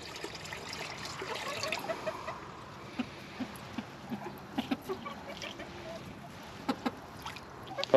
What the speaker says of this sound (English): Pop this off and just throw some warm water in there.